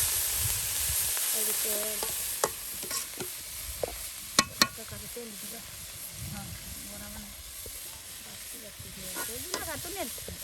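Malabar spinach stems and seeds fry and get stirred in a pan, a steady soft sizzle running throughout with occasional scrapes and clinks, while voices speak nearby.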